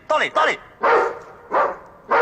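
A dog barks five times in sharp, close bursts, two quick ones followed by three spaced apart.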